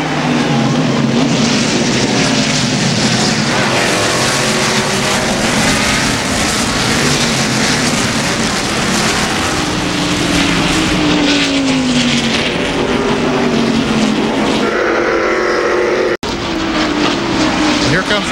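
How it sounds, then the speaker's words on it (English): NASCAR stock cars take the green flag at the 1991 Banquet Frozen Foods 300 road race, their engines roaring and shifting pitch as they pass, under continuous commentary with a brief click near the end. "The cars come off of the 11th corner and they get the green flag."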